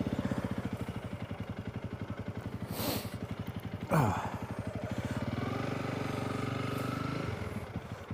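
A motorcycle sets off along country lanes in the Berwyn area, its engine thumping in a close, rapid pulse that swells and eases with the throttle, with a brief clatter midway.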